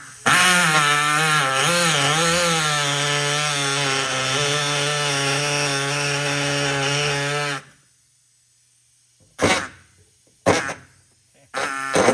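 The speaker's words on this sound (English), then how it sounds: "got the air saw right here" An air saw cuts through a car's floor pan to make a hole for a manual transmission swap. It gives a loud, continuous buzzing whine for several seconds, then stops and sounds in a few short bursts.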